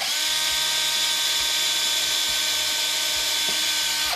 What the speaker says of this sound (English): I always take a drill. I've never had one. With a very small bit on the end